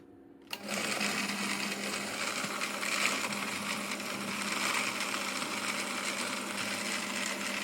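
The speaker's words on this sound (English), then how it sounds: "ready to pour in the blender with the cut plantains and the peanut" A blender switches on abruptly and whirs steadily, blending plantains, peanuts and coconut milk in a loud, continuous motor drone.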